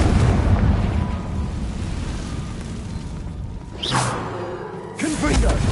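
A Confringo fire spell explodes in Hogwarts Legacy, with booming blasts over a deep rumble. Sharp whooshing bursts strike near the end, loud and close, over continuous game background sound.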